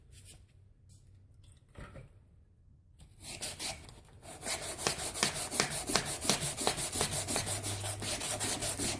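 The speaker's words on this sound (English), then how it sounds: "you can just tell in the feel of the paper going against the aluminum that there's, you know, it's a finer grit" Rhythmic back-and-forth rasp of 240 grit sandpaper rubbing an aluminum part, starting quiet and sparse, then settling into fast, even, close strokes after a few seconds.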